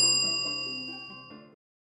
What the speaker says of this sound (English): click on the bell icon to receive notifications